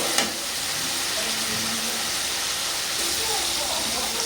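Onion, garlic and tomato sautéing slowly in a pan, a steady close sizzle and hiss running throughout with no other sounds.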